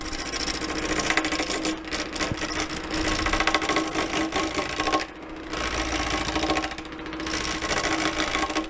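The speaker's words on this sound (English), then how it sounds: "I'll speed the lathe up a bit as well" A wood lathe spins at 800 RPM while turning wood, giving a loud, continuous whirring hum with a steady rasping scrape of the tool on the workpiece and a couple of brief dips.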